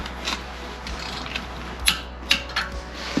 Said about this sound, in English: So you're gonna set your torque wrench to your lug nut torque spec.